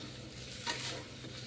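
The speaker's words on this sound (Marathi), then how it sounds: "आता हळद आणि मिरची पावडर यामध्ये वापरल्यानंतर परत एकदा आपल्याला व्यवस्थित हे परतून घ्यायचं आहे" Shepu (dill) bhaji sautés with turmeric and chilli powder in a Maharashtrian home kitchen, giving a faint, soft sizzle with a brief stirring scrape in the middle.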